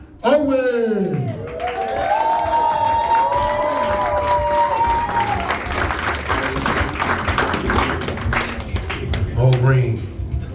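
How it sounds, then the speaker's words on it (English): A comedy club crowd breaks into applause and cheers for a comedian, loud dense clapping filling the room under an emcee's amplified voice. "Clap it up for the comedy stylist of Lawrence Owen."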